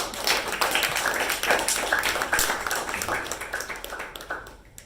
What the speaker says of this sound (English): can we have a huge round of applause for the president?